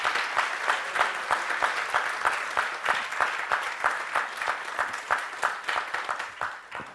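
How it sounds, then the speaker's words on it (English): Audience applause following a lecture in a formal hall, steady dense clapping from a large crowd that holds evenly for several seconds and begins to thin toward the end. "he deserves an even warmer and much more resounding applause today"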